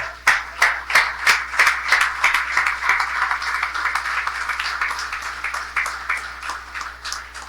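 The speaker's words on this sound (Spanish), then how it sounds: "Un aplauso para Cristo." Applause in a church congregation starts with a few loud, rhythmic claps and swells into steady, sustained clapping from many hands that gradually thins toward the end.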